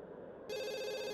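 A telephone in the video game Desiderata Valley begins ringing partway through, a bright steady electronic tone rising out of soft background sound.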